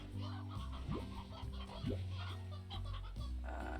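Chickens in the video game Slime Rancher clucking in short, squawky bursts with rising calls, steady game music underneath, fairly loud and close.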